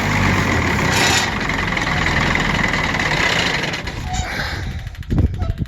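An Allis-Chalmers 190 XT tractor engine, an auction find being started on ether, runs with a loud, rough, steady clatter that falters and sputters toward the end.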